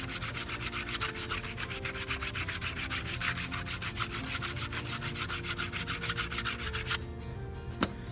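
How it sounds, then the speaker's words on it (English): Hand planer shaving across a rough wooden log, a steady series of rapid rasping strokes close by for about seven seconds, then stopping with a brief knock near the end. "if I use my little planer here, my hand planer, this will take off all of those rough pieces"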